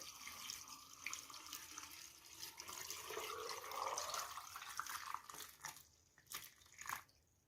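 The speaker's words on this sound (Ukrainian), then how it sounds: "я набрала холодної води з керниці і заливаю сюди в баночку на сіль" Cold well water is poured into a glass jar over salt and tomatoes for canning, a close steady splashing stream that thins into trickles and a few final drips.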